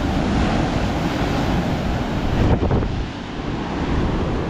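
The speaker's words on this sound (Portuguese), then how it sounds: "olha o tamanho das ondas aqui em Arraial" Big storm-surge waves crash and roll onto Praia Grande beach at Arraial do Cabo, a loud continuous roar of surf with heavy wind buffeting the microphone and a brief surge midway.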